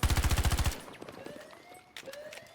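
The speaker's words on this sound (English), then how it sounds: "Shots going out once again there towards the spawn of 3ID" Rapid bursts of automatic gunfire in a PC infantry shooter match, a fast loud rattling string of shots up front, then sparser distant shots, whizzing projectiles and battlefield clatter.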